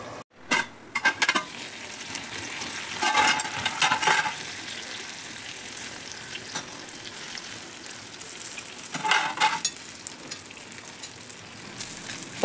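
Stuffed brinjal cooking in a covered kadhai gives a steady, moderate sizzle throughout, with a few brief clinks and scraping bursts of a pan or utensil at intervals.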